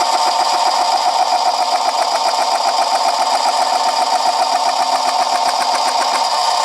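Manson miniature lathe labouring as its tool struggles to cut brass; a loud, close, steady mechanical whir with a fast rhythmic chatter running throughout, alone.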